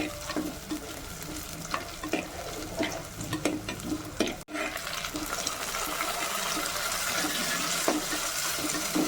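Tomatoes and green chillies sautéing in a pan for a fish curry, a steady sizzle with scraping stirs and occasional spoon knocks, close and continuous with a brief break midway.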